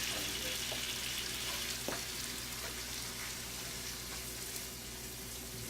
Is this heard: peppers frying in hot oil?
yes